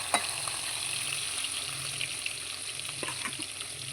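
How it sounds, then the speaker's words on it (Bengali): Spice-coated tengra fish fry in oil in a kadai, making a steady, moderately soft sizzling hiss with a few faint crackles throughout and no speech. "এই যে মশলা লাগাইয়া কড়াইতে দিচ্ছি"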